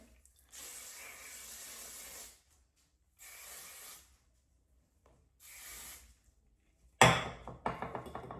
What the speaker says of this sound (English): So I get the hairspray.